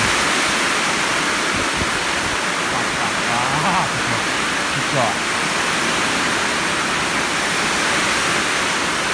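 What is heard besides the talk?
heavy rain with strong wind in a storm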